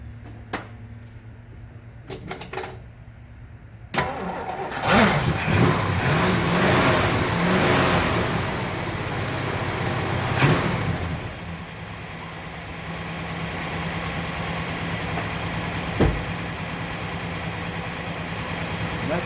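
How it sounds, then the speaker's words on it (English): A 1964 Studebaker Daytona hardtop prepared for pure stock drag racing cranks over, then its engine catches and revs loudly before settling into a steady, rumbling idle. "Let's give her a crank, see what happens."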